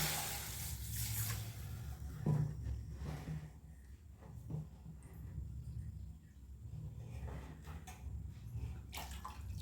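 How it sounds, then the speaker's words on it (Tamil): Water being poured into a pan while cooking tomato upma, a soft uneven splashing and trickling heard close by, fairly quiet, with a few brief clunks. "ரெண்டு கப்பு தண்ணி சேர்த்துருக்கேன்"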